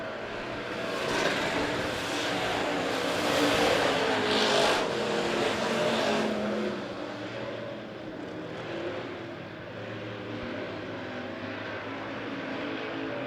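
Dirt-track race cars in a heat race at Monett Motor Speedway roar steadily around the oval, a loud continuous engine drone that swells as cars pass close and then eases to a slightly more distant roar.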